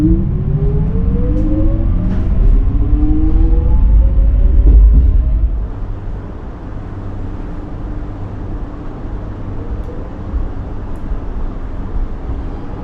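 Melbourne suburban train traction equipment whines loudly with rising and falling tones that fade after about five seconds, leaving a steady low rumble of the train running.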